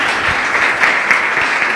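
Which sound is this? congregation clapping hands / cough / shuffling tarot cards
congregation clapping hands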